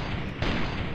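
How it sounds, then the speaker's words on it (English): An explosion in the video game Far Cry 2 lands as a sudden, loud broadband boom about midway, with a rumbling roll that carries on to the end amid sustained gunfire-like noise. "that was an amazing explosion"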